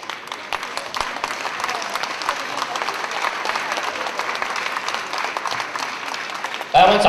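Sustained applause from a large audience at a concert, dense and even for several seconds before swelling louder at the very end, with a voice speaking over the clapping.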